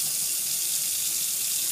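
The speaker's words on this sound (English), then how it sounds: "So as you can see the water going in the sink, that's how much water is pumping in my aquarium." A steady, loud rush of water from a Koralia 900 L/H circulation pump pours into a sink, a continuous hiss and splatter with no breaks or talking.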